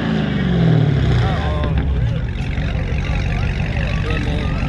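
A loud modified car engine revs and rumbles close by at a Dodge car meet, a heavy low roar with rising pitch sweeps, while people talk nearby.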